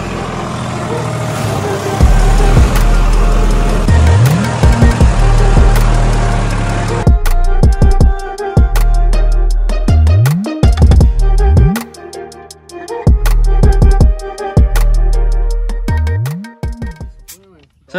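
A tractor in rural Jorhat, Assam, rumbles continuously as someone rides on it, the engine loud and close with harsh rattling and irregular mechanical knocks throughout.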